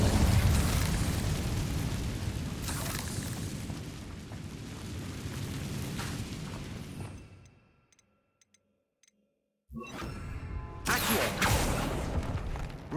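Incendio fire spell cast in the Hogwarts Legacy video game, a loud roaring burst of flame that sustains for several seconds, drops out to near silence, then flares up again with another crackling whoosh.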